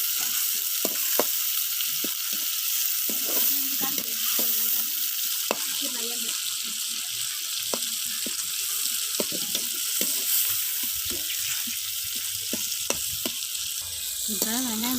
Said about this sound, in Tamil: ஓகே, வெங்காயம் தக்காளிலாம் ஒரு 5 நிமிஷம் நல்லா வதங்கட்டுங்க.